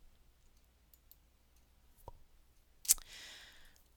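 Mouse clicks on a computer while opening a spreadsheet tab: a soft click near two seconds, then a sharper louder click just before three seconds followed by a brief hiss, otherwise quiet.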